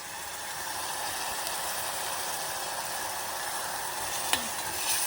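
Garlic, coriander and cumin paste frying in oil for a crab curry, a steady soft sizzle with a brief clink of a utensil near the end.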